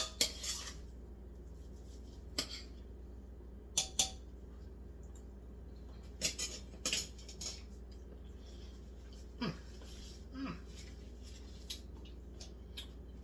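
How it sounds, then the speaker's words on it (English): A utensil scrapes and taps against a pan while rice is stirred for a vegetable stir fry, sparse metallic clinks scattered over a quiet kitchen hum, fairly faint and irregular. "Stir this rice up a little bit."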